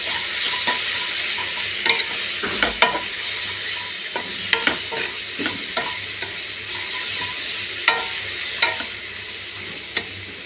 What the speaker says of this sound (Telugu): ఇప్పుడు దీన్ని తీసుకున్నంత అల్లం వెల్లుల్లి చేసి ఇంకా పసుపు బాగా కలుపుతాము